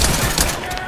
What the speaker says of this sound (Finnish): mua ammutaan